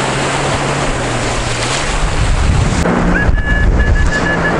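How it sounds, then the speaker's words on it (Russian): Black Sea surf rolls onto the shore in a continuous loud wash, with heavy wind buffeting the microphone and a faint high electronic tone beeping near the end. "Ух, волна какая, а? Это вам не Азовская."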